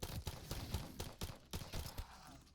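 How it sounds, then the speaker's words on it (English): Pistol shots in Vanguard Zombies, fairly faint, fired singly in a steady sequence of about five or six sharp cracks spaced under a second apart. "Yeah, I am not a fan of this pistol."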